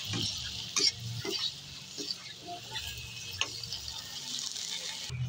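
Adobong okra with chili being stirred in a pan, with scraping and light sizzling in short irregular strokes, close and fairly quiet, no talking.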